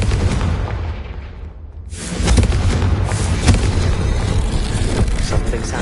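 A Confringo blasting spell goes off in Hogwarts Legacy, a heavy booming explosion that swells after a brief dip and rolls on as a loud, dense rumble with crackling debris.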